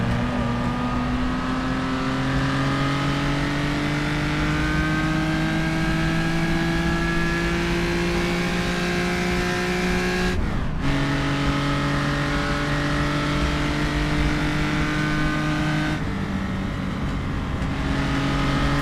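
Loud race car engine at the Dundrod road race, a 5-liter class historic racer, droning steadily with pitch rising through the gears and sharp drops at two gear changes, sustained close and continuous throughout.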